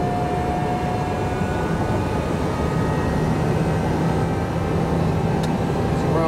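All-electric truck accelerating at speed, heard from inside the cab as a constant loud road and wind roar with a faint rising electric whine, steady throughout with no talking.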